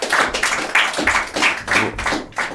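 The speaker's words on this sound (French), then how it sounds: "Je pense qu'on peut applaudir quand même" A small group of about fifteen high-school students claps in a radio studio, a steady run of close, evenly spaced hand claps lasting a couple of seconds with no talking.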